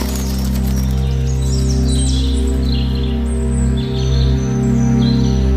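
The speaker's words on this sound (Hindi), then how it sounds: "पंछी की आवाज है।" Bird calls chirp in short, high, scattered phrases over a loud, steady low hum that runs throughout, the chirps fairly faint and spread across the whole span.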